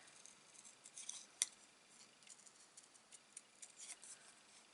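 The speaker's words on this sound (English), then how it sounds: "So, little scissors, just to trim this out." Small scissors trim a stamped paper card in quiet, close snips and light clicks, with one sharper cut standing out among the faint, scattered taps.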